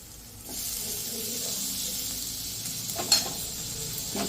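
Boiled goat intestine frying with homemade masala, salt and tomato in a village-style pan, a steady close sizzle with occasional stirring scrapes and a brief louder clatter near the end.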